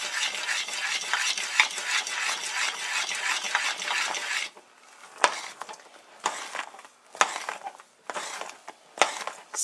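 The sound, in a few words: stirring baking soda into molasses caramel in a pot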